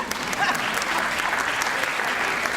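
Steady, dense applause from an audience greeting a professional clapper, sustained hand clapping at even loudness throughout with no pauses.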